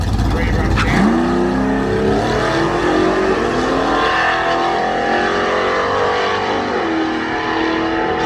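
Holden Commodore drag car, a big heavy sedan, roaring down the strip at an off-street drags event at the Bend dragway, engine note rising loud and continuous as it accelerates, with a commentator talking over it.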